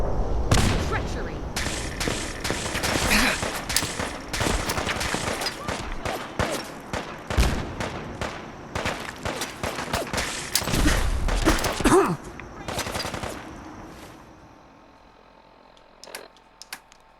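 Enemy gunfire in the Fallout 4 Far Harbor area, rapid crackling bursts of shots layered densely for several seconds, then thinning out and fading toward near quiet at the end, with speech mixed in during the shooting.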